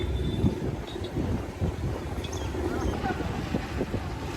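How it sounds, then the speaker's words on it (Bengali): Strong wind blows outdoors across open water, a steady low roar and buffeting against the microphone that runs the whole time, with faint voices underneath. "অনেক জোরে বাতাস হচ্ছে"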